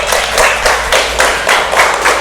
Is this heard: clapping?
yes